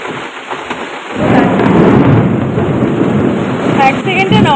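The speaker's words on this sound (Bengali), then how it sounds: "দেখো কি পরিমাণ বৃষ্টি হচ্ছে বাইরে।" Heavy rain pours outside, thunder rumbling through a dense, loud roar that swells after a quieter first second and holds steady, with a faint voice-like sound near the end.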